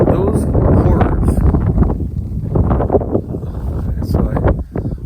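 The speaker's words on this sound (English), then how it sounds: "I seem to have a pocket over here where the wind isn't too bad" Wind blowing outdoors on Cowessess Nation lands in Saskatchewan, a steady rough rumble and buffeting against the microphone that fills the whole stretch at close, loud level.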